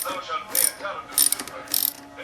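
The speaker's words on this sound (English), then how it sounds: "then you want to get your wrench and loosen it up" Hand wrench loosening the clamp on a 2015 Mini Roadster battery terminal, three short ratcheting bursts, quiet and close, with no talk.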